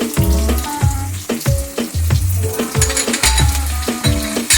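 Ginger and garlic paste added to onions frying in hot oil, a loud close sizzle broken by repeated metal spoon clanks and scrapes against the pan in an uneven rhythm.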